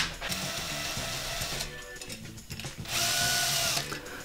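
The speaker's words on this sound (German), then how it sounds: "Dies geschieht von außen, entweder mit einem Schlitzschraubendreher oder für faule Leute mit einem Akkuschrauber." A cordless screwdriver whirs in short ratcheting bursts while tightening spoke nipples on a Simson motorcycle wheel rim, close and fairly loud, with a brief pause before a final higher-pitched run.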